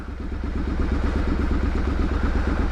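A Triumph Street Scrambler motorcycle engine runs in a town centre, a steady loud low rumble with a fast regular pulsing beat throughout, close by and with no talking.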